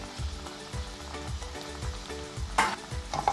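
Spice powders are stirred into sundal masala, a chickpea snack, in a pan. Soft sizzling runs under regular scraping strokes from a spoon, close and moderately quiet, with a brighter clatter near the end.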